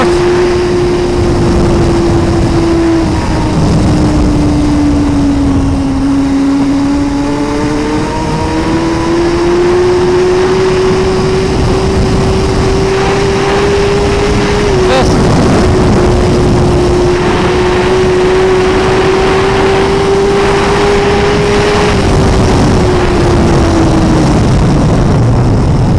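A 2017 Suzuki GSX-R1000R sport bike engine droning loud and steady on a track, its pitch falling and rising through gear changes and short shifts, heard close up throughout with no talking.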